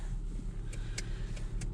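A Renault Clio with about 181,000 km on it idles steadily after starting, a low continuous engine rumble close by with a few brief faint clicks on top, no talking.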